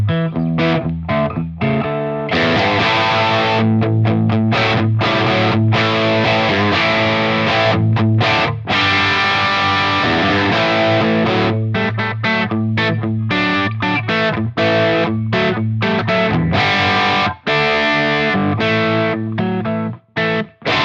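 A heavily distorted electric guitar plays crunchy chords and riffs through a Friedman IR-J amp, loud and continuous, with short pauses between phrases.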